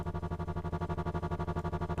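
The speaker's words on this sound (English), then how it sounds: "You'll have a nice little echo, stereo delay echo." A dubstep synth with a stereo delay echo sounds a buzzy, distorted tone. It pulses in a fast, regular wobble that keeps going steadily and alone at moderate loudness.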